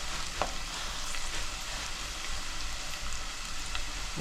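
Onions fry in oil in a pan, giving a steady, even sizzle that carries on without a break, moderately loud and close.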